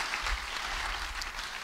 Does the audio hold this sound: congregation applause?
yes